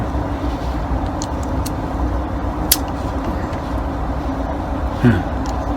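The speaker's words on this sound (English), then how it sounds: "And cars are still speeding" Cars speed past on a nearby road, making a continuous, fairly loud traffic roar with a brief sharper swell near the end.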